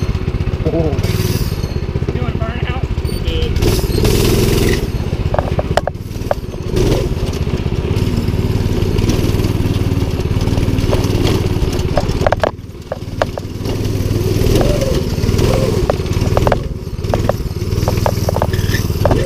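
A cheap go-kart fitted with a Predator 212 6.5 horsepower engine runs loudly up close, its steady motor drone rising and dipping with throttle changes alongside clattering rattles, with people talking over it.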